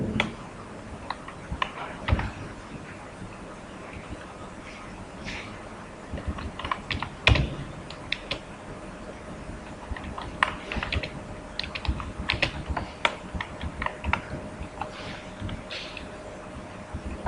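Typing on a computer keyboard while writing code: irregular bursts of clicky keystrokes with short pauses and a few harder taps, close by and moderately loud, with no voice.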